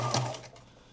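A home sewing machine stitching flat felled seams on a garment gives a quick, close mechanical burst that fades after a fraction of a second.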